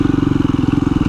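A 2017 KTM 350 EXC-F dirt bike engine runs while riding, a loud, close, rapid rhythmic thumping with a buzzy, slightly clattery edge, steady across the moment with no speech.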